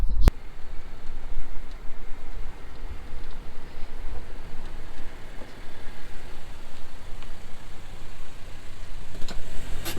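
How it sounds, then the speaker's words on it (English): A car tows a small teardrop camper around a parking lot, its engine and tire rumble holding steady and close for the whole stretch, with a sharp knock near the start and no talk. "Just make a pass around the parking lot."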